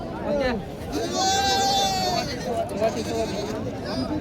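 Young goat kids bleating loudly and repeatedly close by at a goat market in Parbhani, India, overlapping calls amid a busy crowd murmur and people talking.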